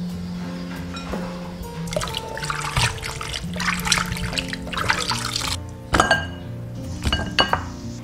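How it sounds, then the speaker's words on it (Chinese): Blanched pork ribs are rinsed clean in water, with splashing and trickling mixed with sharp clinks against a bowl, close and irregular, and no one speaking. "我们把它捞起来， 清洗干净。"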